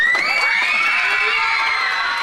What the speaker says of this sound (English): Cheering when they learned the first American Pope was from their town.